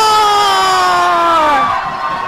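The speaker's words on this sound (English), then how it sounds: "you hear the crowd response to these two young guns" A wrestling crowd roars loudly for the tag team of Rob Conway and Nick Dinsmore, with high whoops and shouts swelling together before easing off slightly near the end.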